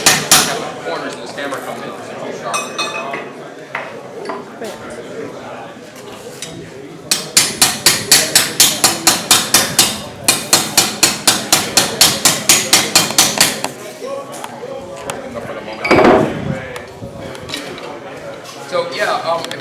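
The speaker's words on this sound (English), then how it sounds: "The corners of this hammer come in too sharp." Hammer blows on sheet metal while a hem edge is worked down, a long run of sharp, evenly spaced metallic strikes close by, with quieter taps before and talk over parts of it.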